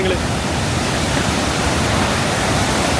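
A steady, dense roar of rushing water fills the air continuously, like a nearby waterfall, loud and unbroken throughout.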